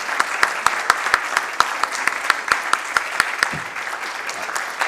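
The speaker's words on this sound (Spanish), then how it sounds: "Con esto terminamos con un aplauso para los panelistas" Audience applause for the panelists at the close of a CELAM-UNIAPAC symposium session, a steady wash of many hands clapping with sharp individual claps standing out, continuing evenly throughout.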